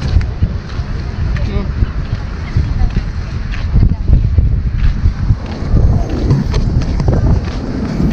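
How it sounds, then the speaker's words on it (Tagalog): Strong wind at Intramuros, Manila buffets the microphone in a constant rumbling roar, with people talking over it. "malakas yung hangin"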